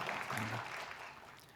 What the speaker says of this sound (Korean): 여러분 다시 한번 큰 박수로 축복하고 격려하시겠습니다